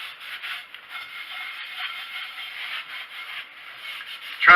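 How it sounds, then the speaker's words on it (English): An oiled rag rubbed inside a rusted cast iron skillet gives a continuous close scrubbing and rubbing sound with a steady back-and-forth texture, ending in a brief louder knock. "So I've got a little bit of olive oil on this rag"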